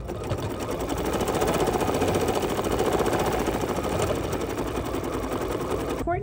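A sewing machine stitches the applique tree bucket pot in red thread, a continuous, close, rapid needle chatter holding steady throughout.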